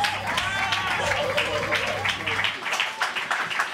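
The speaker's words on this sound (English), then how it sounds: "Can we give him a round of applause to AT Ty," An audience at a live evening show applauds steadily, with scattered whistles and cheers over the clapping in the first half before the clapping carries on more thinly.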